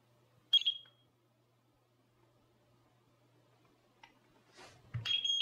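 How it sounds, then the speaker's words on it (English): A Eufy video doorbell gives a short electronic setup beep after its sync button is pressed, then a second beep near the end; both are clear, close tones over a quiet room with faint rustling between them. "Press the sync button until you hear the beep."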